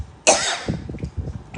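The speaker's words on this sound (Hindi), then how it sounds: "सॉरी, आज आपको मेरी खांसी भी बेयर करनी पड़ रही है।" A single harsh cough from a speaker, close and sudden, followed by quieter breathy throat sounds.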